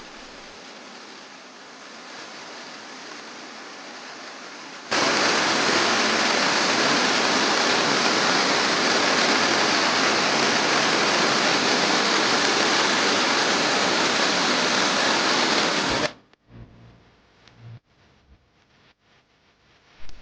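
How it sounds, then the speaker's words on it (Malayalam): A small waterfall in the forest of Silent Valley National Park, Kerala, sends up a dense, steady roar of falling water, quieter at first and then loud and close for about eleven seconds before it cuts away to faint ambience. "ഇപ്പോൾ വനത്തിനകത്തൂടെ നമ്മൾ യാത്ര ചെയ്യുമ്പോൾ ഇതുപോലെ ചെറിയ 1-2 വെള്ളച്ചാട്ടങ്ങളൊക്കെ ഉണ്ട്."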